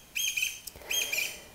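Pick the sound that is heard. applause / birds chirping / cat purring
birds chirping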